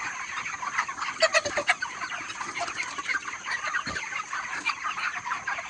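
A dense crowd of broiler chickens in a poultry farm clucks and chirps continuously, with a few sharper squawks standing out from the steady flock noise.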